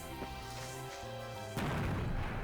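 An explosion in the action RPG Xanadu Next knocks a group of enemies down, bursting out as a sudden loud, noisy blast over steady game music and rumbling on to the end.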